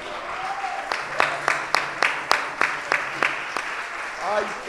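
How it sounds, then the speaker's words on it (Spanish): A church congregation claps during a service, with sharp irregular hand claps rising and falling in a room alongside speech and voices. "¿Cuántos queremos darle un aplauso con generosidad al Señor?"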